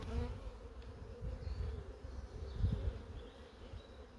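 Honey bees buzz in a hive at the brood box, a close, low, continuous hum that swells and fades softly, with no talk.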